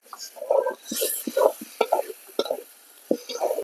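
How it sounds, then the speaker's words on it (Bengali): Tomato and spice masala stir-fried in a pan, with repeated scraping and stirring strokes over a soft, steady sizzle, close and moderately loud. "টমেটোটা মশলা লাগে ভালো করে কষাই নেবো।"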